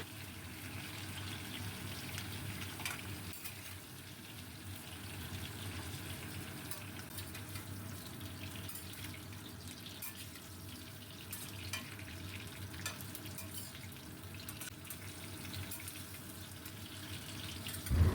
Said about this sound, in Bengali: অল্প নাড়াচাড়া করে এবার কেটে রাখা বেগুন পুরোটাই দিয়ে দিলাম। খুব ভালো করে বেগুনগুলোকে ভাজবো।